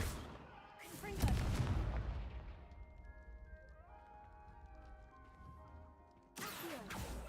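The Confringo fire spell goes off in Hogwarts Legacy as a sharp explosive blast with a booming, ringing tail. A second burst follows several seconds later, with quieter tonal game sounds in between.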